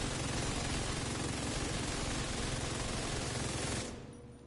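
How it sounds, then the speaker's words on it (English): Heavy gunfire in The Division 2, a dense sustained barrage of bullets that stays loud and continuous before cutting off abruptly near the end. "It's like a smorgasbord of like bullets just flying."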